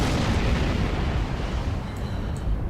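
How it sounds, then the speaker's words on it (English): Heavy rumbling explosions of enemy starships in the Star Trek Online space combat game, a dense, continuous blast of booming bursts filling the whole moment with no talk over it. "Enemy ships exploding, by the way, do damage to you"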